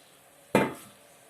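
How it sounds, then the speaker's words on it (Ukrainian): A single soft splash and clatter as eggplants drop into a pot of salted water, fading quickly into near silence. "Тепер закладаю сюди баклажани."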